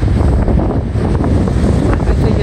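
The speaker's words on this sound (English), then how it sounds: "The wind is horrible." Strong wind on a lake shore buffets the microphone with a loud, continuous low roar and gusty rumbling, with no voices.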